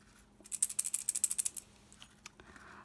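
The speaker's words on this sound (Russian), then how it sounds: "Внутри вот таких вот шумелок горох." A linden wood baby rattle filled with peas is shaken in a quick burst of about a dozen crisp rattles, close and fairly quiet, ending with a couple of scattered clicks.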